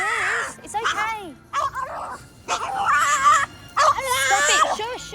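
Bruce the dog screams and whimpers in a local pub, letting out a string of high, wavering whines and sharp yips in uneven bursts separated by short gaps.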